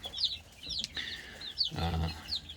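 Baby chickens, including Ameraucana, Jersey Giant and Barred Rock chicks, cluck and peep in short, soft bursts nearby, with a faint voice in the background.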